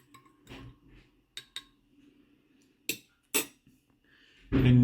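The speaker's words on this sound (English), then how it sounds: "1 lump of sugar. And stir that in." A spoon clinks against a coffee cup as sugar is stirred in, giving a few sharp, close ticks spread over a quiet moment, followed by a louder final clatter of china.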